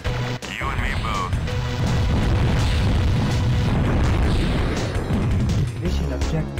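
A loud, sustained blast rolls out as a mission objective is destroyed in a video game, thick booming rumble filling several seconds beneath overlapping voices.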